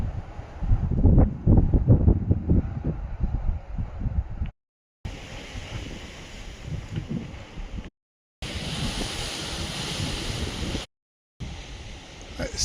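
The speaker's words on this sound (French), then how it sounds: "Je ne sais pas si vous entendez le vent, le sifflement, mais ça souffle." Strong wind near windmills in Spain buffets the microphone in loud rumbling gusts, then settles into a steady roaring, hissing rush that is cut by several brief dropouts to silence.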